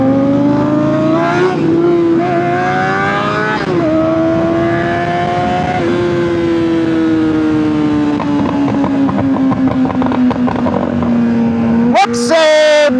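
A Harley-Davidson Street Glide motorcycle engine rumbles loudly and steadily, its pitch rising and falling through revs, with a final sharp rev burst at the end, while people talk over it.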